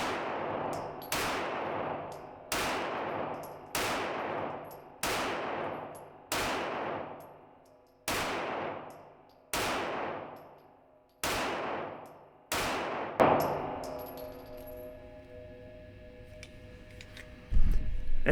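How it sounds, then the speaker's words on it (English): Ten sharp pistol shots from an HK VP9 with a match upper kit ring out at an outdoor shooting range, evenly spaced about every 1.2 seconds, each loud crack trailing a short decay, followed by quieter handling noise. "So let's take the last 10 shots and back it up to 15."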